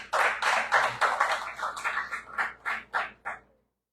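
A short round of clapping from a group, dense at first and then thinning into a few scattered claps before stopping.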